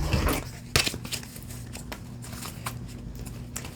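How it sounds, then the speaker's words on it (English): A deck of tarot cards being shuffled in a quick riffle, with a sharp louder burst near the start followed by softer continuous card rustling, close and alone without speech. "Let's get some more clarifying cards."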